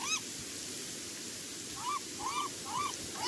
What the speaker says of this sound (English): Found some more scary seagulls.